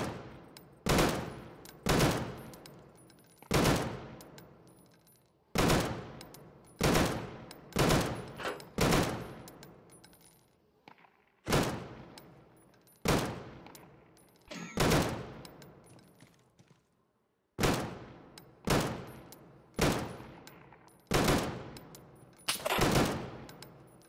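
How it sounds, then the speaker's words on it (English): Video game gunfire repeats in regular loud shots, each one decaying quickly, with a few short pauses between groups of shots. "I'm like focusing on shooting these guns, bro."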